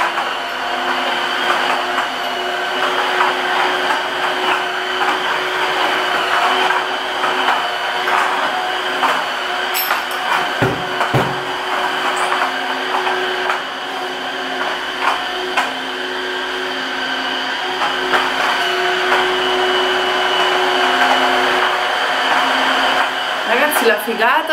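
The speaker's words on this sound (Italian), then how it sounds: "avete mai visto un aspirapolvere che cammina da solo?" A robot vacuum cleaner's steady motorized whir and hum drones on for the whole stretch, loud and close, with a few faint bumps and clicks along the way.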